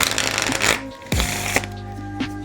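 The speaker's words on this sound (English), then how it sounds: "you then proceed to shuffle the cards" Playing cards being riffle-shuffled, a brisk fluttering burst, a short pause, then two more quick shuffles, close and clear.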